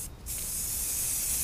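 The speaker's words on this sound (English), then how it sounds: "I'm just spray painting a little here and give you some name recognition." Rust-Oleum spray paint hisses steadily from an aerosol can onto a Corvair tow bar, a close continuous spray after a brief pause at the start, with no talking.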